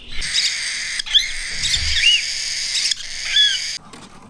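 A flock of parrots being sorted and readied for shipment calls continuously, with loud, shrill, overlapping squawks and chirps close by and no break in the chorus.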